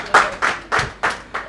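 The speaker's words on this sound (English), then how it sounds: "Big round of applause for her." Five slow, evenly spaced claps ring out close by during a children's storytelling session at a literature festival, each one distinct and crisp, with no talking over them.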